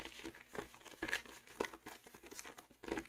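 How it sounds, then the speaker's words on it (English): Antique French linen rag paper pages crinkling and rustling as thick sheets are handled, in several short crisp bursts, close and fairly quiet, with no talking. "that extra high-pitched crinkle is very, very beautiful linen rag paper"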